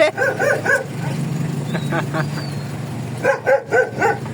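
A dog barks in several short bursts, close by, with a stretch of lower background noise and faint voices between the barks.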